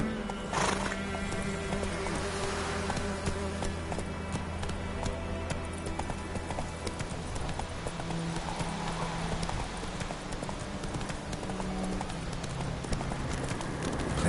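Roach the horse galloping in The Witcher 3, steady rapid hoofbeats drumming under game music, with a brief whinny near the start.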